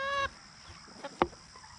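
Backyard chickens give a short burst of clucking at the start, followed by a single sharp squawk near the end, close and fairly loud.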